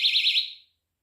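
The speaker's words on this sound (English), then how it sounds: "they're going to sound the alarm." A door or window separation alarm sounds a shrill warbling electronic tone that pulses quickly for about half a second, then cuts off into silence.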